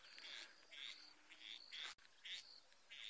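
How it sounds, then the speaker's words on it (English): Frogs calling at a lily pond on a sunrise safari, repeated bursts of rasping, chirping croaks around 3–4 kHz, fairly faint and steady against quiet outdoor ambience, with no talking. "There's some frogs calling."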